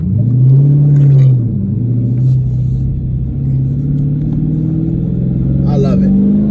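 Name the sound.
2015 Dodge Challenger R/T manual car engine while shifting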